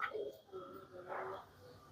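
Old Mulla Ji breed pigeons from Tonk cooing in soft, low, repeated calls close by, with a steady murmur of other birds and no talking.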